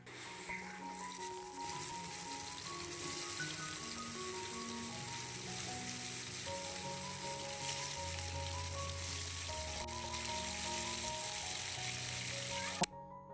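Fish sizzles in a small amount of hot oil in a pan as it fries until crispy. Steady, fairly quiet crackling continues throughout over a faint background of soft tones, with a brief knock near the end.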